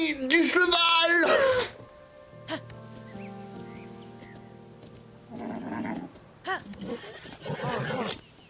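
Ganon's huge horse in Zelda: Tears of the Kingdom gives a loud, wavering whinny, then snorts and makes softer sounds with some game music beneath, while people talk excitedly.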